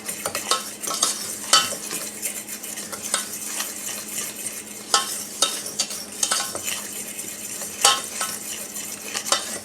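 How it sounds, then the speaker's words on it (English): A cornstarch mixture is whisked in a bowl for a fresh strawberry pie filling, with rapid irregular clinks and scrapes of the whisk against the bowl, close up and without speech. "we're going to just whisk this together to remove any lumps or anything from the cornstarch"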